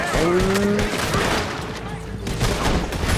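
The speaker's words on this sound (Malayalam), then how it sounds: "വെടി വെക്കുന്നവർ അവിടെ ഉണ്ട് അവർ വെടി വെച്ച് തുടങ്ങി" Rapid bursts of gunfire in Red Dead Redemption 2 crackle continuously, with engine-like hum and sharp broadband shots throughout, fairly loud and dense.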